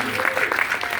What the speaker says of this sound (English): Y'all gotta clap it up for